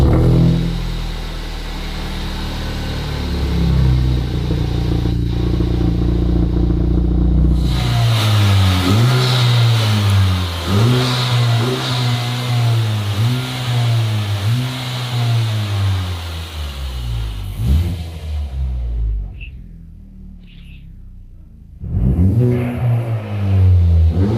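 A Honda Civic Type R FK2 engine cranks and catches on a cold start, settling into a loud, steady high idle with a rhythmic pulsing drone, briefly cutting out before firing up again near the end.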